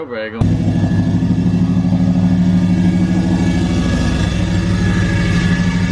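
Cammed Ram truck engine held at 1500 RPM with a fault, running rough after a brief voice at the start; a loud, steady, lumpy rumble continues for several seconds.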